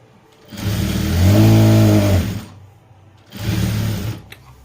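A sewing machine stitching a shaped bed, running in two bursts of whirring motor hum, the first longer and louder, the second shorter, with quiet pauses around them.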